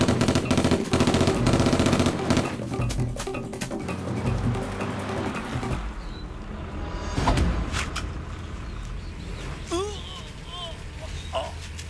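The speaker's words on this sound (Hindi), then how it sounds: "गोली मार रहा।" Bursts of gunfire in an action game crackle loudly through the first half, dense and overlapping, then fade to quieter scattered shots while voices talk over them.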